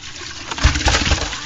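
Water and freshly caught fish are poured out at sea with a short, loud gushing splash that swells and churns briefly up close.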